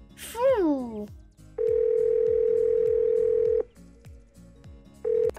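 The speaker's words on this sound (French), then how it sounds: "Lisa, je voulais t'appeler pour savoir si tu pouvais sortir aujourd'hui." In a Playmobil story, a telephone rings for a call with long, steady electronic tones separated by pauses. A brief sliding voice sound and soft rhythmic background clicks come first.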